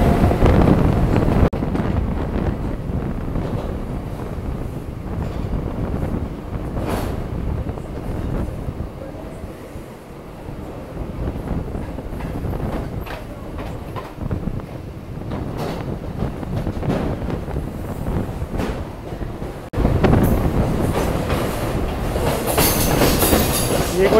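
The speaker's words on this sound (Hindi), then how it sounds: "ये कोई लॉजिस्टिक वाली ट्रेन पास हो रही है मेरे ख्याल से" A freight train carrying goods rolls past on the Karjat to Khopoli rail line, a steady rumbling roar with rattling wagons and strong wind buffeting the microphone, sustained for the whole stretch with no speech.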